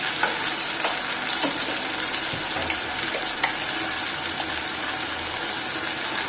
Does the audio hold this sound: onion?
yes